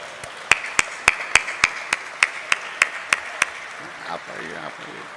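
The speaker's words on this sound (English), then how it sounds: "let's welcome the first shark with a big round of applause" A welcoming round of applause at the JIIF Shark Angels event in Mumbai, heard as a string of loud, evenly paced claps close by, fading out as a voice begins talking near the end.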